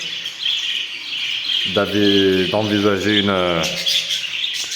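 Exotic birds and parakeets in an aviary keep up a dense, steady chirping and twittering throughout, with someone speaking over the birdsong for a short stretch in the middle.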